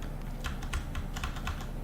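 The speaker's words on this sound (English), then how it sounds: "I'm going to use the square brackets on my keyboard to shrink this down a bit." Computer keyboard keys are tapped in a quick series of close, crisp clicks at an irregular rhythm while brush size is adjusted in Unreal Engine 4, with no talk over them.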